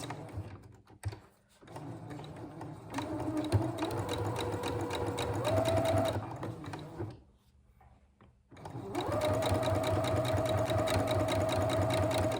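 A domestic sewing machine runs in two long bursts, stitching bias binding onto Easter bunting fabric. Its steady whirring motor and rapid needle clatter are close and clear, with a short pause between runs and no talking.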